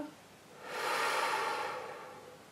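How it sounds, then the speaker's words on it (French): A slow, soft exhale during a sophrology breathing exercise swells gradually and fades, a breathy rush of air heard close and alone. "Expiration de l'air"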